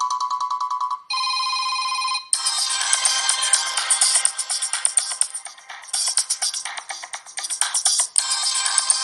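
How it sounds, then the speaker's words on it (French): An Oukitel U15 Pro phone ringtone plays loudly and continuously, a short repeating electronic melody with bright chiming tones, no voices. "sonnerie du téléphone."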